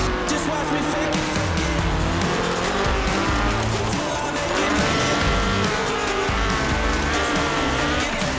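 A Ford RS 1800 rally car in Forza Horizon 4 slides with loud, continuous tire squeal over a roaring engine, the skidding sustained throughout at close range.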